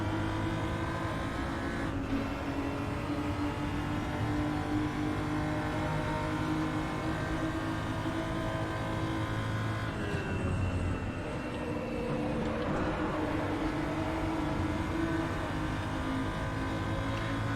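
A BMW M235i Racing Cup car in the RaceRoom racing game roars continuously, engine note rising and falling through gear changes and throttle lifts, loud and close with no voices.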